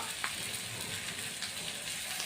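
Capsicum pieces frying in oil in a pan for capsicum masala, giving a steady, even sizzle throughout with soft crackles, close and moderately loud, no talking.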